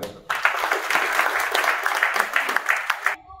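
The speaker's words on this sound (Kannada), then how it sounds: "ಚಪ್ಪಾಳೆ." An audience at a Tulu drama performance by the Gammath Kalavider troupe in Dubai bursts into brisk, dense clapping that lasts about three seconds and then stops abruptly.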